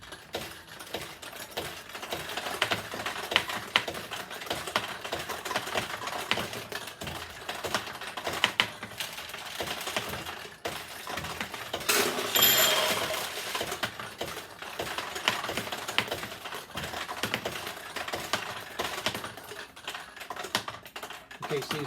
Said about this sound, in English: we'll just start to launch some balls here and show the machine in action